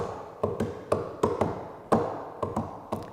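Hands tap out a two-against-three rhythm on a hard surface, sharp close taps falling in a repeating uneven pattern with paired strikes where both hands land together, with no voices.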